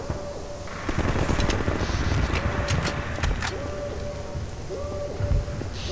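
Gunfire in the video game Half-Life 2, rapid bursts of automatic shots crackling over a dense steady battle roar, loud and continuous, with a brief voice underneath.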